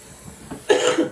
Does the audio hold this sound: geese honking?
no